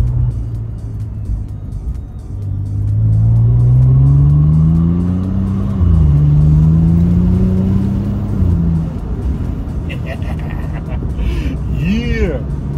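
A loud car with an open muffler accelerates along an empty road, its engine drone climbing through the gears with a brief dip between shifts, then easing off near the end, heard from inside at close range.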